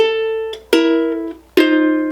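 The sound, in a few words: ukulele pickup phrase of a song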